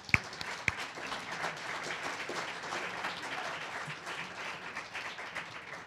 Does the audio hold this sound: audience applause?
yes